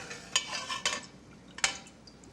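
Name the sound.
spoon with holes scooping pecans out of a pot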